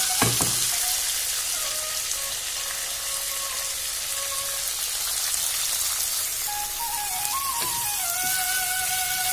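Pumpkin and potato fry in mustard oil with panch phoron, mustard seeds and whole dried red chillies, a loud, steady, close sizzle throughout with occasional stirring scrapes and faint tonal squeaks.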